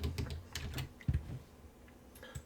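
Quiet, close clicking of computer keyboard keys as dates are typed, with irregular bursts of keystrokes and short pauses.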